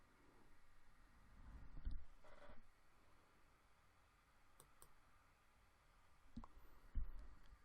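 A computer mouse clicks a few times during ArcGIS work, giving sharp, isolated close clicks over a quiet room hum with no talking.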